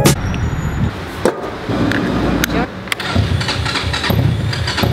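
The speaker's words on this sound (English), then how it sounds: "Having trouble starting the buggy." A buggy engine cranks and catches, running loud and rough up close with uneven revving throughout, brief sharp knocks along the way and voices talking over it.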